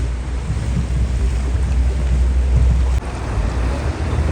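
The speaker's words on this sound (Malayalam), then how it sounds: "ഇവിടുത്തെ ട്രാൻസ്പോർട്ട് ബോട്ട് പോകുന്നുണ്ട് കേട്ടോ സൈഡിൽ കൂടെ" Loud rushing water and wind roar steadily, a low engine-like rumble underneath, as a transport boat moves past on a canal in Venice; no voices.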